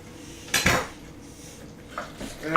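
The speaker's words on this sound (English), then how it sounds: "Scrape the bowl down." Utensil scraping around a mixing bowl during chicken salad prep, one loud clattering scrape near the start followed by softer scrapes and taps, close and alone.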